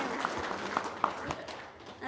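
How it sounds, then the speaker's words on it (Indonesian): A small audience gives a short burst of applause, scattered claps over a murmur of voices, fairly faint and quickly fading. "Tepuk tangan dong sekali lagi biar semangat."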